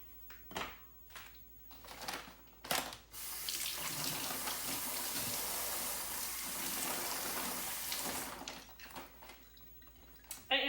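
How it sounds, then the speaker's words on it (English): Hands washed in a kitchen sink under a running tap, a steady close rush of water lasting several seconds with splashing and handling sounds before and after it. "so I'm pretty anal about washing my hands"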